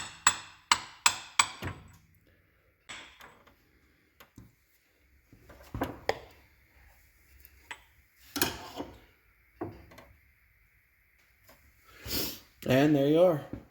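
Crankshaft seal being tapped into place with a socket on a Geo Tracker engine: a quick run of sharp metallic taps, then scattered single knocks and clunks close by with quiet gaps between them.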